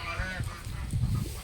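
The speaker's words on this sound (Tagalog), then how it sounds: "Poultry." A goose honks several times close by in a short, harsh burst of poultry calls.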